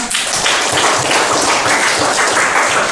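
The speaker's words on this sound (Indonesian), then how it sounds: "Boleh kita kasih tepuk tangan?" Brisk clapping from a group of students in a school classroom, a dense burst of handclaps holding steady at close range for a few seconds.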